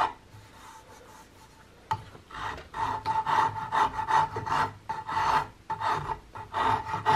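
Coarse rasp filing down the wooden buttplate area of a CVA Hawken rifle stock, with steady rhythmic back-and-forth rasping strokes after a brief quiet start, close and distinct, with no talking.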